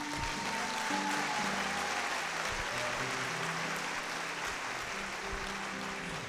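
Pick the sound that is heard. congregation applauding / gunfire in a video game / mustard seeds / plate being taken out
congregation applauding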